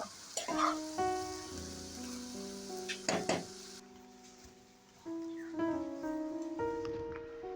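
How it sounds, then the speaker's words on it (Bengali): Bottle gourd greens sizzling in a hot pan for a home-cooked Bengali fry, with the crackle of frying broken by occasional scrapes of stirring, close and steady, while background music plays throughout. "তারপরে নেড়ে চেড়ে কিছুক্ষণ ভাজা ভাজা করে ভাজিটা হয়ে আসলে নামিয়ে নিব"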